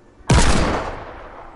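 A single loud gunshot from a silent pistol in the Fortnite video game fires sharply and then decays into a long fading tail, alone with no talk.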